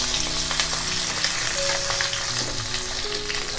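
Boiled, crushed potatoes frying in hot oil with a little salt for a Bengali aloo dum, sending up a loud, continuous close sizzle, with occasional stirring scrapes in the pan and no talk.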